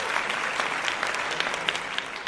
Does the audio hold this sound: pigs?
no